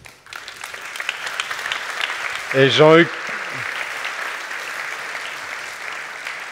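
An audience claps for the panelists of a round-table session at a 2025 congress on healthy ageing. The applause is steady and fills the whole stretch, with a brief voice rising over it near the middle.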